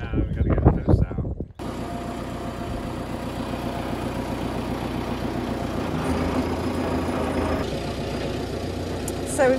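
A farm tractor engine idles with a steady low rumble on a sheep farm, starting after a brief stretch of handling noise and running loud and continuous, with a slight change in pitch partway through.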